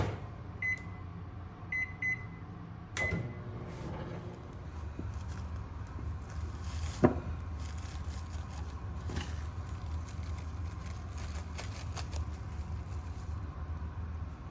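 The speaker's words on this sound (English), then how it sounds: "Now we're gonna take this and microwave it for about 2 minutes." A few short beeps sound as buttons are pressed, then a microwave oven hums steadily with a low drone and faint crackles.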